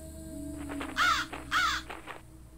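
A crow in a vampire-hunting video game gives two loud, harsh caws in quick succession, close and clear over a quiet hum, with faint rustling around them as it takes off.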